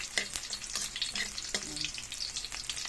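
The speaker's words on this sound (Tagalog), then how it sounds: "Pabraw natin ng mabuti yung bawang para mabango." Garlic frying in a pan as the first step of Filipino ginisang monggo, a steady close sizzle with occasional stirring scrapes and no talk.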